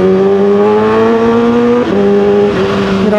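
A stock Kawasaki H2 supercharged motorcycle, still fitted with its catalytic converter, revs loudly and close by. The engine note is a steady, strong drone that dips briefly twice. No one speaks.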